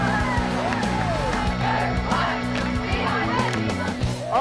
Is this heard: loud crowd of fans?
yes